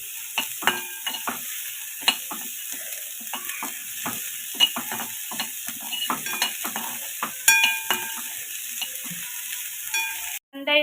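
Chopped onion frying in a pan for veg momos, a soft continuous sizzle broken by frequent close scraping and tapping of a spoon as it is stirred, with no voices.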